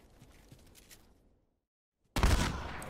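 A single loud shotgun blast from The Last of Us multiplayer cuts in sharply after a near-silent pause, following faint scattered game noise.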